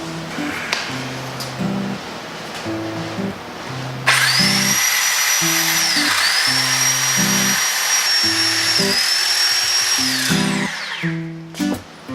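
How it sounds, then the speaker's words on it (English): A motorized bike frame's top tube is cut with a power tool, giving a high, steady whining grind for several seconds that rises and falls slightly, preceded by a low, rhythmic mechanical hum pattern that continues underneath. "I am going to cut this top tube first and go ahead and grind the edges"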